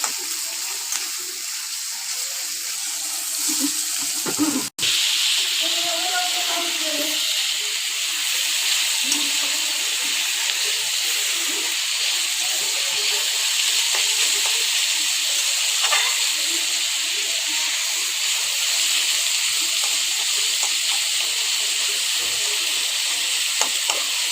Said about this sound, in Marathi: चांगलं आता ब्राऊन होईपर्यंत चांगलं आपण फ्राय करायचं